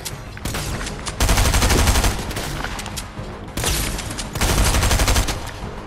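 A heavy shotgun fires at a non-player character in a video game: loud, close blasts come in quick clusters, with brief lulls between the bursts.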